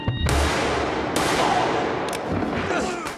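A gunshot from a Peaky Blinders TV episode: a sharp, loud blast rings out near the start and a dense, noisy burst fills the rest, with more sharp cracks following at intervals.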